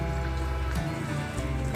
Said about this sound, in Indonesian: Sekarang tibalah saatnya untuk menyiram tanaman-tanaman ini.